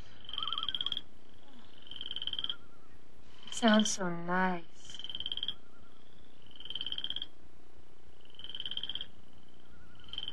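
Frogs croak in a quiet country night, with repeated short trilling calls at a steady rhythm and moderate distance, while a person speaks briefly in the middle.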